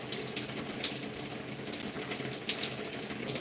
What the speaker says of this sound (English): And then I'll go in with some water.